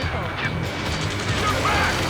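Gunfire crackles through a Ace Combat 7 battle, dense and rumbling under continuous shouted radio chatter, loud and close with explosive bursts blended into the mix.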